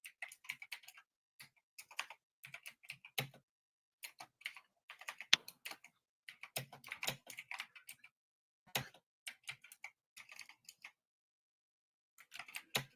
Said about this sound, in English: I always like your keyboard, Frank.